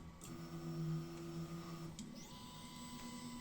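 An Ultimaker 2+ Connect 3D printer extrudes filament, giving off a quiet, steady motor whine with sustained tones that shift pitch partway through, alone with no talk.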